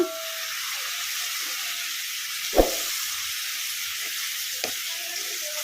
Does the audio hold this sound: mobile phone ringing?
no